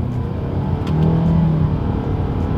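A 2022 Mitsubishi Outlander SUV with a CVT accelerates hard down a straightaway, its engine droning loudly and steadily with a slight rise in pitch as a simulated gear shift comes through near the middle.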